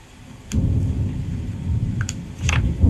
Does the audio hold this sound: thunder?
yes